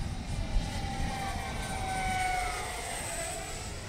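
An Eachine F-18 50mm EDF model jet flies outdoors, its steady, high whine from the electric ducted fan holding over a low rumble and shifting in pitch as it passes at a moderate distance.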